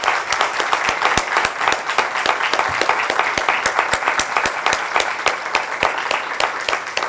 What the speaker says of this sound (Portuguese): Gostaria que vocês aplaudissem novamente.